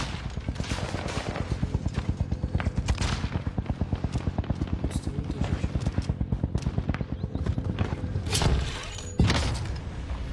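Rapid automatic gunfire from a Call of Duty Modern Warfare 2 beta match on PlayStation, a fast steady stream of shots with a few louder bursts and impacts near the end.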